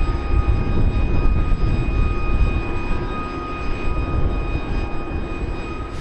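A Chinook helicopter at Bagram, Afghanistan, heard from inside or close by, gives a loud, constant engine and rotor drone with a steady whine on top and no voices.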